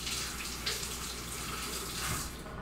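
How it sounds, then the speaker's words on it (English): Tap water runs steadily into a kitchen sink as hands are rinsed during home cooking, a close, continuous splashing hiss with no talk. "Let me rinse my hands off, though."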